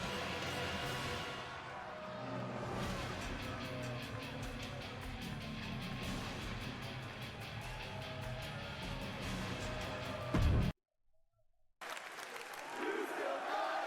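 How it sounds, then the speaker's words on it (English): Wrestling arena crowd roars and cheers loudly and steadily, with a sudden near-silent cut before the noisy crowd returns, swelling again at the end. "And this crowd is going crazy."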